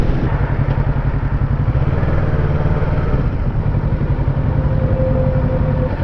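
A 2020 Kawasaki Ninja 650 motorcycle engine runs steadily and loudly up close, giving a smooth, even idle rumble that holds throughout with no talking.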